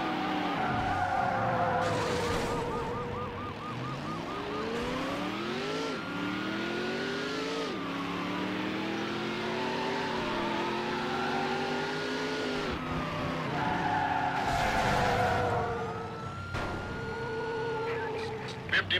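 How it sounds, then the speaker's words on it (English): A yellow Dodge Viper in a police pursuit in Need for Speed: Hot Pursuit 2 screeches through long tire skids, its engine revving and wailing up and down, with a police radio voice talking over it. "Vehicle is a yellow Dodge Viper."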